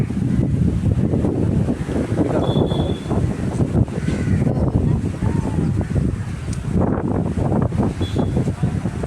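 Sea waves surge and splash near a new bridge under construction in Mumbai, with strong wind buffeting the microphone throughout and faint voices in the background.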